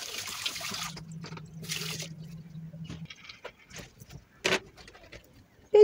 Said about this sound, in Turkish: Sudan çıkarınca bir iki defa yine musluğun önünde yıkayalım.